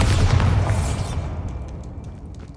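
Bombarda spell blast in Hogwarts Legacy, a loud, close, booming explosion with a deep rumble that fades out over a couple of seconds, followed by faint debris and crackles.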